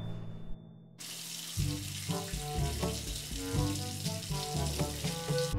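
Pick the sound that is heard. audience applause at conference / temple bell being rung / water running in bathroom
water running in bathroom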